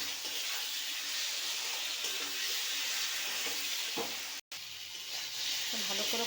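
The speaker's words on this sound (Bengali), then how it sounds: "দিয়ে ভালো করে কষিয়ে নেব।" Mustard and green chili paste sautés in a hot pan with a continuous, close sizzle, interrupted by a brief dropout and a few stirring scrapes.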